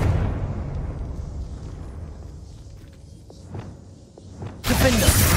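Confringo, an explosive spell in Hogwarts Legacy, fires with a whooshing rumble and a few faint crackles, then ends in a sudden loud burst of blast noise.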